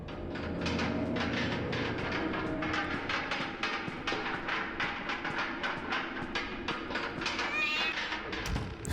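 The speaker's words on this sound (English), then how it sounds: "The cat starts meowing." Cat meowing inside the video game Five Laps at Freddy's, a rapid string of repeated meows over a dense rumbling background with no speech.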